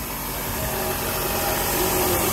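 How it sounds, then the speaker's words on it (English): Steady broadband hiss from a vacuum leak in a car engine bay, over the running engine idle, constant and fairly loud throughout before cutting off abruptly. "You basically just hear some type of hissing noise coming from the engine bay"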